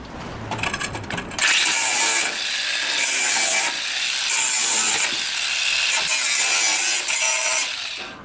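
A hand ratchet loosens the brackets on a gas barbecue being restored: loud, close bursts of rapid clicking, repeated in several strokes with short pauses between them.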